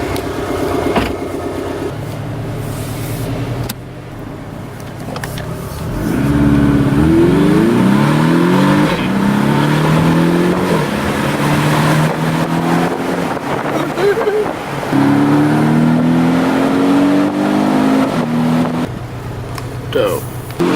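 A base-model Porsche accelerates hard through quick gear shifts, its engine note climbing repeatedly up close from inside the car, with people talking over it.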